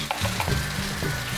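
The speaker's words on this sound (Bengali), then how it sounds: "তেলের মধ্যে কালো জিরে ফোড়ন," Nigella seeds and nigella paste hit hot oil in a brief, close burst of sizzling, with a few stirring scrapes through the crackle.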